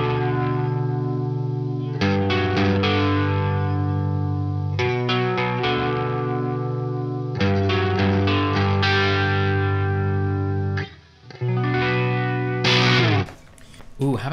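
An electric guitar runs through a Big Monk Pompeii fuzz with modulation, playing sustained distorted chords that swirl and waver, with brief breaks where the fuzz cleans up between strums.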